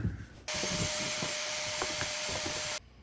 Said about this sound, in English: And get my vacuum in there.